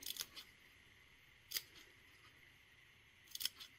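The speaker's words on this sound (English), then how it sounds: "And then I'm going to cut out little triangles here," Scissors snip little triangles out of chipboard, three short crisp cuts spaced a second or two apart, close and quiet.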